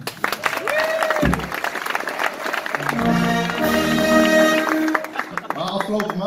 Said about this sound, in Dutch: applaus voor hen